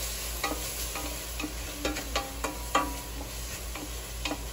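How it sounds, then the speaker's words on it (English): Cuban black bean stew with spices being stirred in a pot, soft scraping and light clicks of the spoon over a steady low sizzle, close and quiet, no talking. "Give it a stir so I can smell those spices"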